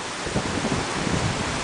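Tropical Storm Fay lashing the area with steady, loud wind and heavy rain, a continuous roaring wash with gusty buffeting against the microphone and no voices.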